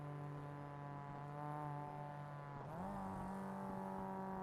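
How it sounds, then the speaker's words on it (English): A Porsche safety car engine revs hard at Mt Panorama during a club race day, a steady harmonic drone that jumps sharply in pitch partway through, heard from a distance with no talking. "You can hear the Porsche safety car absolutely revving its guts out"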